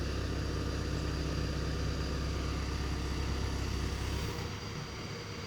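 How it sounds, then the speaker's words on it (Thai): A four-cylinder car engine runs at a steady idle, a continuous low rumble with an even hum, close and alone for about four seconds before the sound drops off. "แกบอกว่าอยากลองเล่น เครื่องยนต์สี่สูบดูครับผม"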